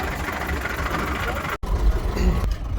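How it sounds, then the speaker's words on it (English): A restored Mark 2 Volvo bus, also known as the 300, idles at a Scottish bus museum. The engine gives a steady, fairly loud rumble, broken by a brief dropout partway through. "Our bus is just idling here at the moment"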